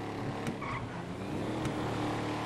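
A car engine in the video game GTA V Online produces a steady, low droning hum throughout, with a couple of faint clicks and no voices.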